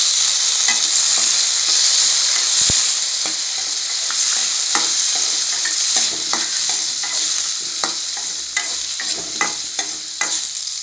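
Chopped tomatoes stirred into frying onions for a bitter gourd kulambu: a loud, bright sizzle with repeated spoon scrapes and clacks against the pan, growing more frequent toward the end.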